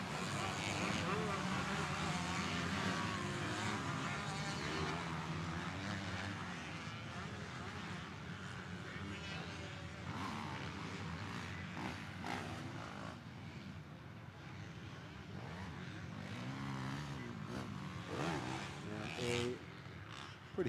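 Pack of motocross bikes racing around the Winchester Speedpark track at a Loretta Lynn's Northeast Area Qualifier, a dense continuous engine roar with rising and falling revs from several machines, steady and fairly loud throughout with a commentator talking over it.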